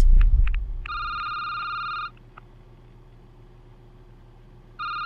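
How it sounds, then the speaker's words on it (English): An electronic telephone rings in a security booth in a horror game, a trilling tone lasting over a second, then a pause and the ring starting again, after a loud thump. "I don't want to pick up the phone!"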